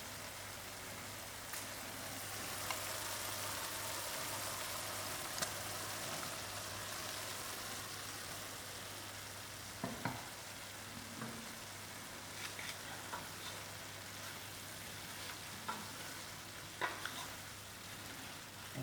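Frozen peas and white button mushrooms fry in a pan, giving a steady, quiet sizzle with occasional scraping and clinking as the mix is stirred.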